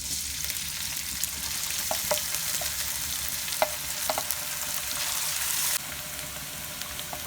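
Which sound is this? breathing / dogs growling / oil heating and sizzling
oil heating and sizzling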